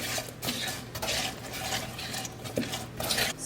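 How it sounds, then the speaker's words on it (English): A seasoning mix of garlic powder and black pepper being stirred in a bowl, with close, quiet scraping and clinking of a utensil against the sides in an irregular rhythm. "Give it a good mix."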